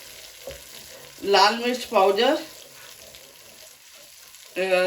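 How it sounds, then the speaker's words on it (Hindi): Ground turmeric, Kashmiri red chili, coriander and cumin powders being sautéed in a pan, a soft, low sizzle running underneath while a voice speaks in a few short bursts. "अब मैं इसको भून रही हूँ।"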